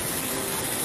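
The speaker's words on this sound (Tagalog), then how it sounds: "Malakas ang agos. Sobrang lakas." Strong floodwater current rushing through Marikina streets, a dense loud roar of churning water that stays unbroken for a brief moment.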